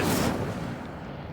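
Incendio fire spell cast in Hogwarts Legacy: a single short whooshing fiery burst, loud at onset and fading over about a second, nothing else alongside.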